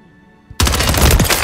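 Gunfire from a GRAU rifle in the video game Modern Warfare, a sudden loud burst of rapid automatic shots after a quiet moment, with one faint shot just before.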